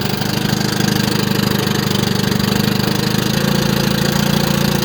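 A 1957 Evinrude Fastwin 18hp outboard motor idles in a test tank, running slightly lean in chilly weather, giving a steady, close, rhythmic chugging putter that stays even throughout with no talk.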